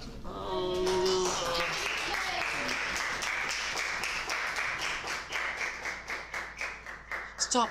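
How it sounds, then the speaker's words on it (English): A group claps during a reality-show elimination, dense at first and then thinning into looser, irregular claps that fade unevenly toward the end, with no talk over it. "Stop clapping"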